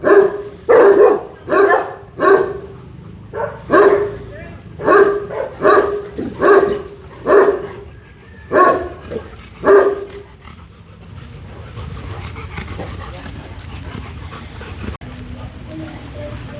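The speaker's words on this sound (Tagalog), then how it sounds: "Kita mo yung dami ng aso na excited sa kanya." A pack of dogs barks in quick excited bursts at a Rottweiler arriving at the gate, loud and close, for about ten seconds before settling into a quieter rustling background.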